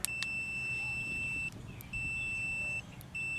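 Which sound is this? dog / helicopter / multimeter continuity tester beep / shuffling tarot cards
multimeter continuity tester beep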